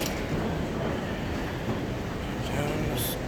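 Steady low rumble of the Denver airport terminal train and station ambience, continuous and fairly loud throughout, with a brief brighter hiss near the end.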